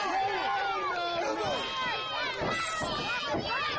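Wrestling arena crowd roaring and cheering continuously at a live match, a dense wash of many voices with shouts rising and falling throughout.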